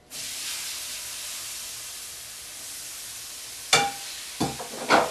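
Rinsed potatoes hit a hot metal pan with a steady hiss, then a few louder sizzling bursts and clatters toward the end as they settle.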